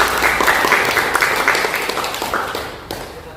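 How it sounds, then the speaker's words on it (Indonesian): A class in an automotive engineering lesson claps together in steady, close applause that slowly fades over a few seconds. "Kita aplaus buat kita semua."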